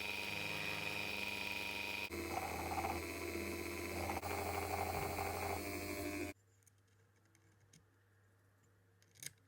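A rotary burr shaves down brass on a part from a 17-jewel Oris Super watch, a steady high-pitched whir for about six seconds that cuts off, leaving near silence with faint ticks.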